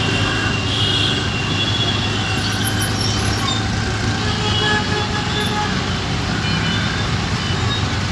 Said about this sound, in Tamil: டிராஃபிக்